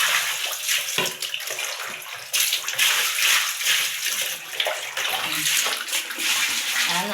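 Soapy laundry is swished and rinsed by hand in a basin of water, with close, irregular splashing and sloshing and a short pause partway through.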